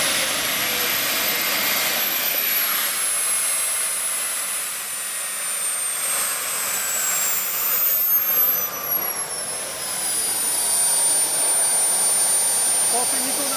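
An Aerotrain's jet engine runs steadily up close, a loud, continuous high-pitched whine with shifting tones and a broad roar that dips briefly before surging again.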